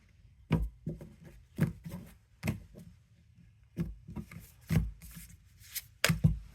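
A deck of oracle cards being cut and handled on a surface, with several soft, separate taps and rubbing thuds at an uneven rhythm, close and quiet, no speech.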